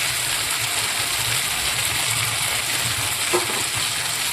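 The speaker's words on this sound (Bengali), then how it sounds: "এবার আমি ওই তেলের মধ্যে আদা, জিরে, কাঁচা লঙ্কা, টমেটোটা পেস্ট দিয়ে দিলাম" Ginger, cumin, green chilli and tomato paste frying in oil in a kadai, a steady dense sizzle throughout with low rumbling underneath and one faint clink near the end, no voices.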